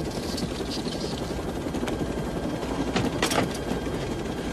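A helicopter drones loudly and continuously nearby, its rotor noise filling the scene with a few brief mechanical creaks on top.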